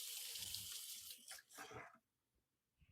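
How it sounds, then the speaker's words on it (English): A kitchen tap runs into a sink as a kitchen knife is rinsed, a steady close splashing hiss with a few shifts in the flow before it cuts off, leaving near silence with faint clicks. "Let me wash my knife real quick."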